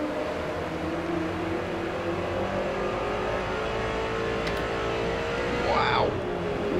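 A Ford GT Mk1 race car's engine in Forza Motorsport, a loud, sustained droning roar at steady revs with a brief rising pitch sweep near the end, no talk.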